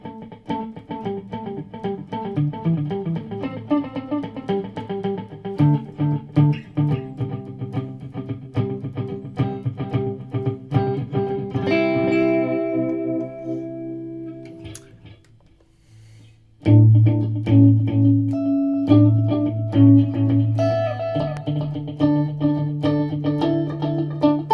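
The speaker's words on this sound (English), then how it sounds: "Like a bouncing sort of echo sound. So that's the electric guitar." Electric guitar notes are picked in a rhythmic pattern with a bouncing echo effect, each note repeating and fading away, followed by a pause and then sustained distorted chords, played alone without talking.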